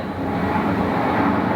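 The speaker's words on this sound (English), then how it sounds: "That's a plane." A steady, low, broad roar of an airplane overhead, continuous and fairly loud with no other sounds.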